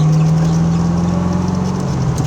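A 1988 Callaway twin-turbo Corvette pulling hard in second gear, its engine a loud, steady drone with a rising whine from the twin turbos, heard close from inside the car with no talk.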